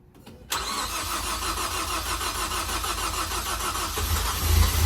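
A Ford Focus ST engine cranks at its first start after a rebuild, with a steady, fast, loud mechanical churning that starts abruptly and keeps going without a break. The low end grows heavier near the end.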